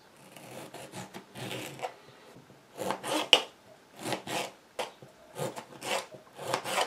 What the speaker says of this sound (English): And I'm going to cut the tomato into pieces.